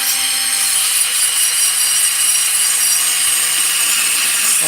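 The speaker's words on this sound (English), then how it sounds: "I'll give it a nice heavy bevel right there in the middle." A Husqvarna 394xp chainsaw port is beveled with a high-speed rotary tool, a loud, steady, close grinding whine with an abrasive rasping edge that holds constant throughout.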